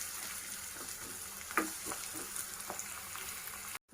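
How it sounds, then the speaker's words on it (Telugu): Onions frying in about three spoons of oil in a pan, a soft, steady sizzle with a few light stirring knocks and scrapes, fairly quiet and close, no one talking. "ఇక్కడ ఉల్లిగడ్డ మంచిగా వేగిపోయిందండి"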